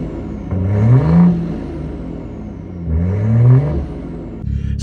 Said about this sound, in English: I absolutely love the way the B58 revs up